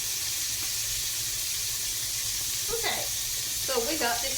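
Chicken frying in hot oil for home fried chicken gives a steady, even sizzle throughout, with brief clinks of kitchen handling near the end.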